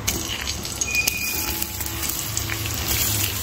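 Sliced onion frying in a little hot oil makes a constant dense sizzle with a faint crackle, close and steady throughout, with no voices.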